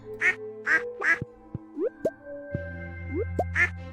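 Ducks quacking in the Stardew Valley farm video game, several short clear quacks in a steady run alongside plopping and bubbly game effects, close and without talk.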